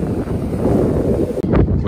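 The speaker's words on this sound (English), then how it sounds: "The wind's blowing pretty decently out." Wind gusting outdoors near the beach at a busy Clearwater, Florida seafood grill, a steady close rumble of wind buffeting the microphone for a couple of seconds.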